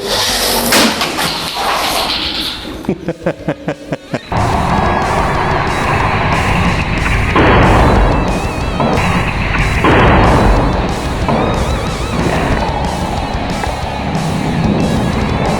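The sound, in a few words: toy car smashed sideways in a crash simulation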